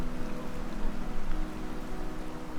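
Steady rain falls in The Legend of Zelda: Tears of the Kingdom, a dense, even patter of drops on surfaces that runs unbroken and close, with no voices over it.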